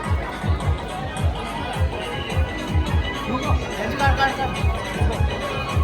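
Busy crowd at the Sukadar village fair in the rainy season, a steady loud babble of voices with a rhythmic drumbeat pulsing close by throughout.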